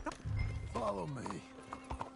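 Horse hooves clip-clopping at a walk in the Red Dead Redemption 2 video game, steady close hoofbeats with a short whinny-like horse call partway through, under a game soundtrack.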